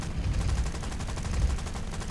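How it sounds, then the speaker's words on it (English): Rapid automatic cannon fire from a Boomerang Mk I fighter in a flight combat game, a dense unbroken stream of booming shots that runs loud and steady throughout. "that's my cannon ammunition out again"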